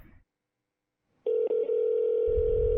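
In a horror video game, a phone tone sounds: after a brief low noise and a second of silence, a loud, steady electronic tone begins and holds, close and continuous, with a low rumble entering near the end.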